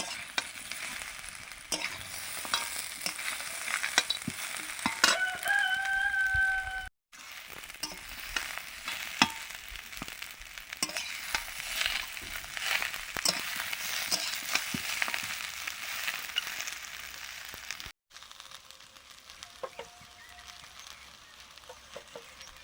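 Fried vegetables hit a hot pan and sizzle steadily while being stirred, a continuous crackling hiss with scraping stir strokes, close and moderately loud, with short breaks in the sound.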